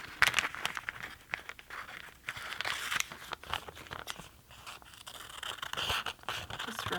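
Scissors snipping and crinkling through paper or fabric around the outline of a hand-woven Christmas heart ornament, a close, irregular run of crunchy cuts and rustles with no talking.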